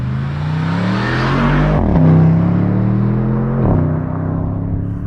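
A 2021 Porsche Panamera Turbo S in Sport Plus mode with manual shifting, accelerating hard on a tight road. The loud engine note climbs steadily through two quick upshifts, each marked by a brief dip, with no talking over it.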